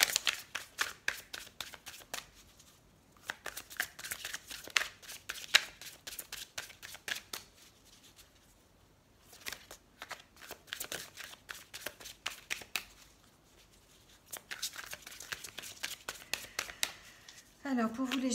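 Rock and Love oracle cards are shuffled by hand in quick, papery riffling bursts that come and go over about eighteen seconds, with someone speaking French between and over the shuffles.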